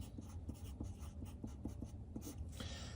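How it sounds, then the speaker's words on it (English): Pen or marker scratching across paper in a steady series of short strokes, close and fairly quiet, with no voices. "So the first thing I'm gonna write is space."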